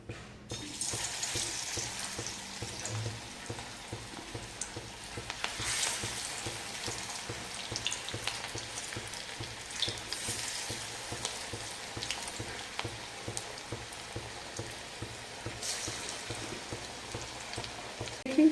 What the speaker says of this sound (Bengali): এবার আমি মুসুর ডালের বড়াটা ভেজে নেব।